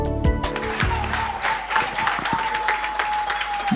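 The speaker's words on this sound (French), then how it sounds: "veillons accueillir sous vos applaudissements Madame Annie Chebea" A full audience applauds steadily at a trophy award ceremony as a woman is welcomed to the stage, the dense clapping filling the room from start to finish at an even, loud level.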